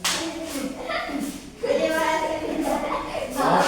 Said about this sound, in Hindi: सही है, तालियां।